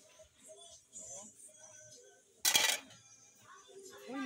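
Metal cooking pans clank sharply once in a grocery store aisle, a loud burst of handling noise amid quieter rustling while a person talks nearby.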